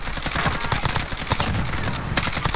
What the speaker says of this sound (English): Bro, I got sniped